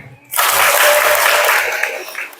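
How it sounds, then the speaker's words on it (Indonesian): An audience at a training session for choir conductors breaks into sudden loud applause after a brief quiet moment, a full burst of many hands clapping that holds steady and then starts to thin toward the end. "Tepuk tangan."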